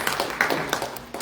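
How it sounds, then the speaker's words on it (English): An audience at a conference claps for a speaker, a short patter of scattered hand claps with a few louder individual claps standing out. "let's give a warm round of applause to Mr."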